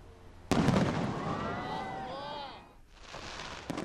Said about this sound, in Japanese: 昨夜追悼と復興の思いを込めて4年ぶりに花火大会が開催されました